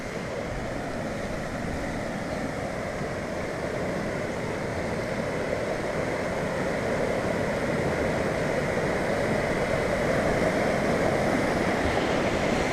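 The River Ostrud roars steadily over salmon jumps, a dense broad wash of rushing water that grows slightly louder toward the end.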